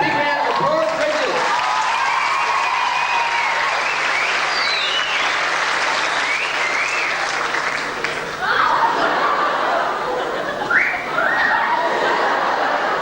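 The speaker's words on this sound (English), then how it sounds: "Big round of applause, Richard." A school year 12 farewell audience breaks into sustained clapping mixed with cheers, whistles and laughter, loud and continuous throughout.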